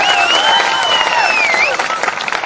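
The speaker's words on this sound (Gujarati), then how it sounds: "એમના માટે પણ જોરદાર તાળીઓ પાડો" A political rally audience in Nandod claps loudly and steadily, with a wavering high tonal sound, like a whistle or raised voice, riding above the applause before it thins slightly at the end.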